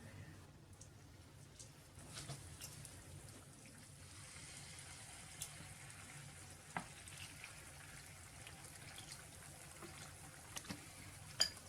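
Chicken or semolina croquettes (3djidjates, Algerian style) sizzle steadily in hot oil, a soft continuous frying hiss with occasional small pops and clicks, no talking.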